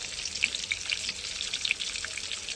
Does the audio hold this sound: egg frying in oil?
yes